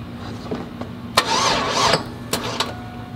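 A cammed 450 hp 5.3 V8 in a lifted Tahoe cranks with sharp starter bursts, catches briefly in a rough surge, then gives a few more clicks and cranks, close by with no talking.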